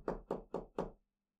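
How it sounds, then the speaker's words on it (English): Four evenly spaced, hollow knocks land on a front door late at night, close and fairly soft, with no talk around them and silence after. "all of a sudden, she hears a knock at the front door."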